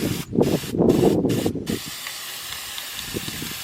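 Rust Reformer spray paint hissing from an aerosol can in four short bursts, close and fairly loud, followed by quiet room tone.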